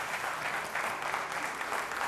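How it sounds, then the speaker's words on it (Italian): Studio audience applause on an Italian live TV show during a band contest episode, a steady dense wash of clapping held at an even level from start to finish with no voices over it. "Un grande applauso per lei."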